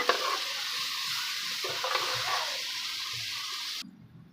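Tomatoes and green chillies being stirred in a frying pan, hissing and sizzling continuously up close with soft scraping, then stopping abruptly near the end.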